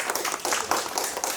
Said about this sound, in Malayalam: ഒരു കയ്യടി.